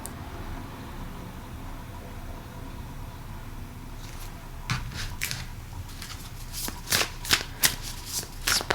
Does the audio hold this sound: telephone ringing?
no